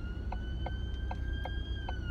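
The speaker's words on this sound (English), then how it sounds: "Can you hear the siren?" Ambulance siren wails as the vehicle passes slowly, a steady rising and falling tone heard at a moderate distance above low traffic rumble, without speech.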